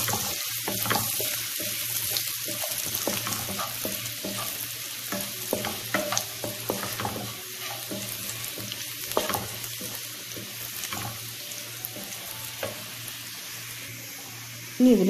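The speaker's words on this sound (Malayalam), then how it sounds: "ചെറുതായി അരിഞ്ഞ് ഇഞ്ചി കൂടി ചേർത്തിട്ട് നന്നായിട്ടൊന്ന് വഴിച്ചെടുക്കാം." Chopped ginger sautéing in a pan for chicken fried rice, with steady close frying sizzle under repeated sharp stirring and spatula scrapes against the pan, running continuously throughout.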